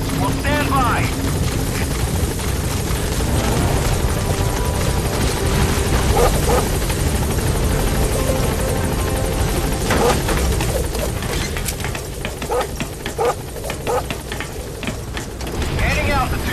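B-Quad helicopter setting down at a landing zone in Metal Gear Solid 5: The Phantom Pain, a steady loud rotor roar that continues without a break, with radio voices and scattered game effects over it.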